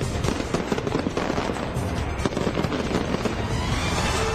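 Dense, continuous crackling and popping bursts of New Year fireworks launched from Auckland's Sky Tower, loud and sustained, with rapid overlapping bangs and no pauses throughout.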